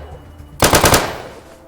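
A short automatic burst of AP rounds fired at metal armor in the game ATOM RPG: about five rapid, sharp, loud shots in quick succession, followed by a brief fading ring, with no talking.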